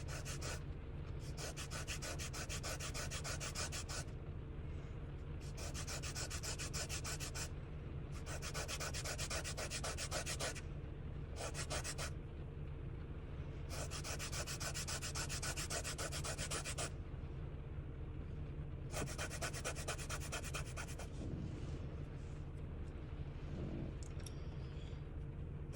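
A pastel blending stump is rubbed back and forth on sandpaper to clean it, giving repeated bursts of dry, gritty scraping separated by short pauses over a steady low hum, close and continuous for the whole stretch.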